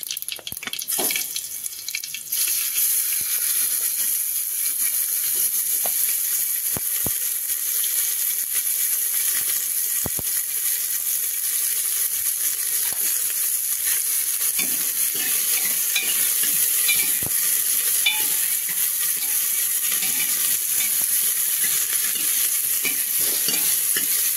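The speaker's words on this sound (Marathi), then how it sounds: "मोहरी तडतडली की जिरं तेवढ्याच घेऊन कांदा टाकून घेणार आहोत आपण" Chopped onion sizzles in hot oil with crackled mustard seeds and cumin for a dal palak tadka, a steady frying hiss broken by stirring and scraping sounds, with no talk.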